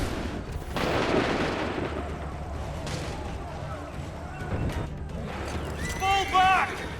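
A volley of musket gunfire in the Assassin's Creed III video game, with loud booming bursts near the start and again midway, amid battle noise and shouted voices.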